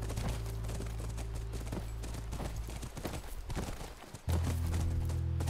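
Hooves of a horse in the video game The Last of Us clopping in a rapid rhythm near a ranch, with game music and bursts of action sounds around them and no speech.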